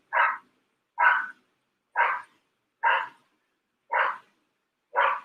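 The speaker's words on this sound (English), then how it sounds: "Oh my God, that dog." A dog barks six times alone in sharp, evenly spaced single barks about one second apart, fairly close and loud against silence.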